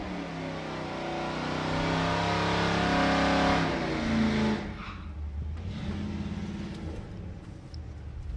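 A '37 Ford Coupe drag car launches down the Santa Pod strip with its clutch slipping hard. Its engine gives a loud, sustained roar for about four seconds, then drops off to a lower, rougher rumble. No voices.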